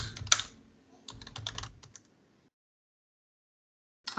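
Quick bursts of clicking keystrokes on a computer keyboard, a short flurry then a second cluster, followed by a long silence and a sharp final tap, close and crisp.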